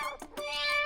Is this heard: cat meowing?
yes